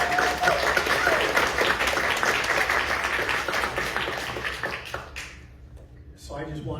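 A panel audience gives a dense round of applause that tapers off, followed by a speaker's voice at the end.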